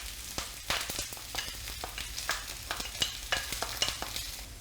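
Chopped onion and garlic frying in a pan for a Chinese beef and bean sprout stir fry, a steady close sizzle broken by repeated scraping stir strokes, with no talking.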